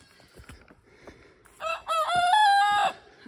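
A rooster crows once on a farm with muddy chicken pens, a clear, fairly near cock-a-doodle-doo rising after soft rustling and scattered clucks.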